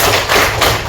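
Students in a classroom clap together as part of a counted clapping routine, with a couple of quick, loud group claps close together.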